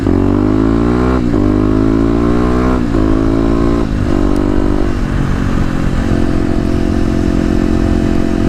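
A Kawasaki KLX250 dirt bike fitted with a new 13-tooth front sprocket is ridden hard, its loud engine revving up repeatedly through several gear shifts before settling into a steady, rough drone near the rider.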